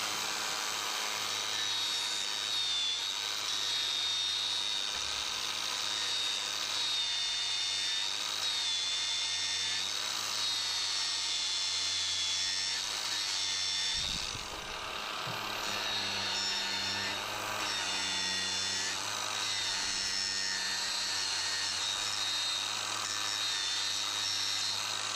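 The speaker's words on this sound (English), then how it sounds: "I use the grinder to slowly remove pieces of hoof and expose the direction of the most probable area" A grinder grinds steadily at a lame cow's sore hoof to trim it, a loud continuous high whine that dips briefly midway and then resumes, with no speech.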